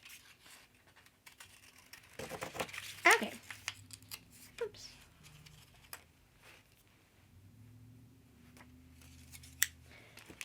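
Scissors cutting a section out of a paper bingo card, close crisp snips in a short cluster followed by scattered quieter cuts and paper rustling, with faint background sounds.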